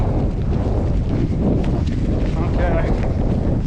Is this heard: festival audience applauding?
no